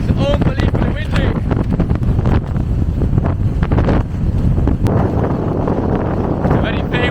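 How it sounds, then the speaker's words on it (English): Strong wind buffets the microphone continuously while crossing the Mediterranean near Tarifa, a loud rushing roar with gusty bursts throughout. "It is unbelievably windy."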